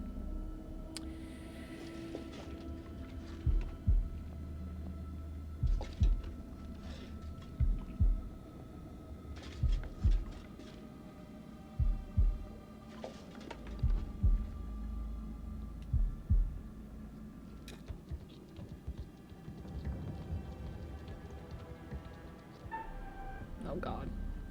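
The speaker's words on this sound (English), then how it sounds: "Is this where I do the first heartbeat thing?" A heartbeat effect from the video game House of Ashes thumps in steady, paired beats through the whole stretch. A low hum sits beneath it and a voice is heard quietly.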